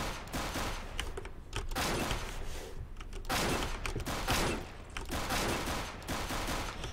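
Pistol gunfire in a modded video game, rapid bursts of sharp shots in clusters with brief pauses, loud and close, no voices.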